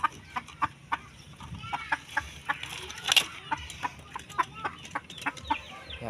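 Four-month-old cockerels, young roosters, clucking in a steady series of short, sharp calls close by, with a faint crow-like note midway and a low farmyard background.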